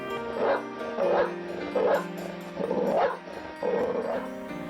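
A greedy village dog from a children's story barks in short yips and bow-wows, about five bursts at a steady rhythm, close and fairly loud over a musical background.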